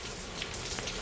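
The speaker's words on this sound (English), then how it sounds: "It's raining, obviously." Rain falls at night in Dhaka in the early morning hours, a brief, steady, even hiss of drops on surfaces with no voices.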